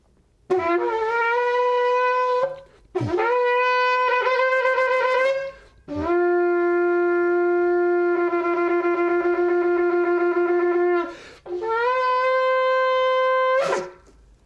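A shofar blown in four long blasts separated by short gaps. The loud, brassy horn tones rise at the start of each call and hold steady, heard alone with no talking.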